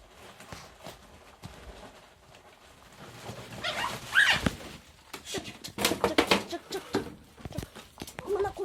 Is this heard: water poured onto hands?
no